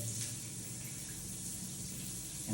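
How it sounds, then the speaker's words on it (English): Spray hisses from the shower head of a ROVATE retrofit rainfall waterfall shower tower panel, a soft, steady stream of water heard alone and at an even level. "This is the shower head."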